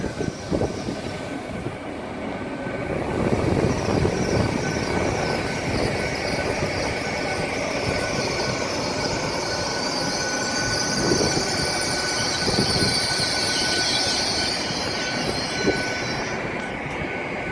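A Class 800 passenger train rumbles in steadily, with metallic wheel squeal and a sustained high whine over continuous track noise, close by, no talking.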